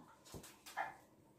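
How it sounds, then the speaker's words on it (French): A playing dog gives a few faint, brief whimpers and soft yips, close by but quiet, with a short pause between sounds. "Si vous entendez du bruit, c'est un chien qui joue avec le mari."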